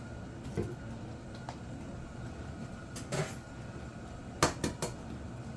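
Two eggs cracked into white Texas sheet cake batter, giving a few sharp clicks and taps against a bowl, one near the middle and a quick cluster later, over a low steady room hum.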